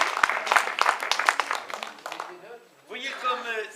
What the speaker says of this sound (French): Vous venez d'applaudir ma filleule, Karine.